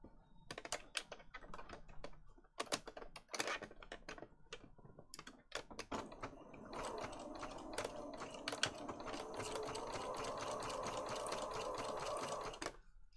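A sewing machine stitches through thick paper junk journal pages with lace, first in short separate bursts, then in one long steady run of rapid mechanical clatter, close and fairly loud with no talking.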